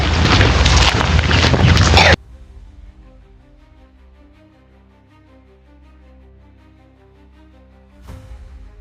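Boat engine starting up amid loud wind noise, then settling into a steady low idle hum that runs alone for several seconds before another gust of noise returns.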